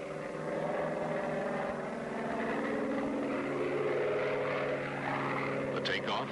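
A Grumman Bearcat propeller plane taking off in 1969 gives a sustained, droning piston-engine buzz with a pulsing tone, steady and moderately loud, while someone narrates over it.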